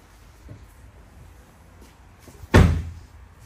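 The boot of a Kia Pro_cee'd GT 1.6 T-GDi station wagon opens with a single sharp thunk and a short rattle midway, after a few faint handling clicks in near quiet.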